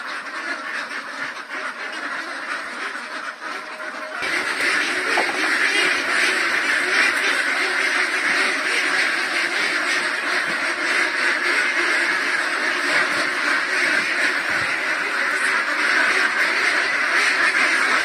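A flock of newly transferred farm ducks quacks continuously, a dense, loud chorus of overlapping calls that rises and thickens a few seconds in and continues without pause.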